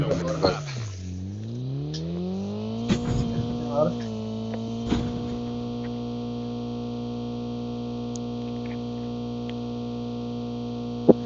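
A vehicle engine in Call of Duty Mobile drones steadily, its tone sweeping down and back up before holding level, with electronic distortion, a few sharp game clicks and no talk.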